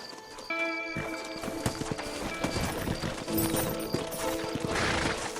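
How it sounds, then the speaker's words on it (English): Horses in the Western video game Red Dead Redemption clop steadily along with hooves beating a busy, close rhythm, and a whinny rises briefly above the hoofbeats against a dense game soundscape. "Horses are over here!"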